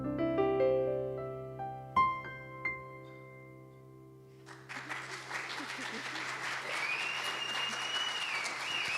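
Applause from an audience after a musical performance at a church gathering, starting after tonal music fades and building into steady, dense clapping that continues to the end, fairly loud and close.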